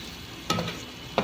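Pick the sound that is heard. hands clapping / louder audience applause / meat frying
meat frying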